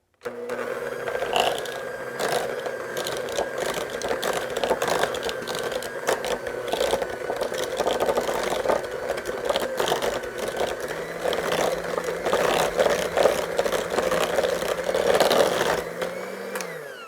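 An electric mixer creams butter, sugar and salt for Christmas shortbread cookie dough, giving a steady whirring motor drone with a faint scraping rattle that runs unbroken for about seventeen seconds at moderate loudness.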